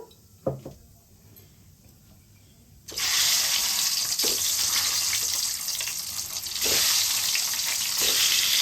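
Eggs fry in oil with turmeric: after a quiet stretch with a few clinks, a loud steady sizzle bursts in and keeps going, close and hissing, with occasional knocks and no voices.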